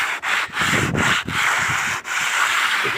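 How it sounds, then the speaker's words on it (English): Hand block sanding of wood with sandpaper during a boat restoration, heard as steady, loud, close scratchy strokes with brief pauses between passes. "I use this old-fashioned technique of a block sander with"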